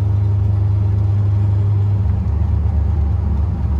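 A C3 Corvette with an LT1 engine cruising on a 50 mph road, its deep, steady engine rumble loud and close throughout, easing slightly in tone near the end as the car slows.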